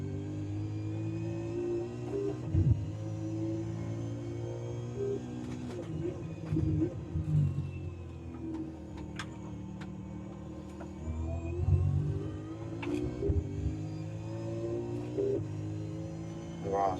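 A V8 Supercar engine in iRacing, on the Imola circuit, runs steady and loud, its drone rising and falling as the car accelerates hard out of corners with brief gear-change blips, the car heard on its own.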